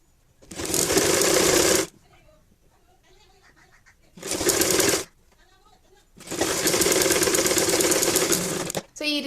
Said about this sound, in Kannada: ಸೊ ಇವಾಗ ಇಲ್ಲಿಂದ ಈ ರೀತಿ ಮಡಚಿ ಸ್ಟಿಚ್ ಹಾಕೊಳ್ಳೋಣ.